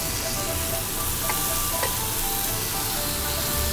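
Shredded carrot and wood ear mushroom are stir-fried hard in hot oil in a wok, giving a loud, steady close sizzle with a couple of light utensil clinks.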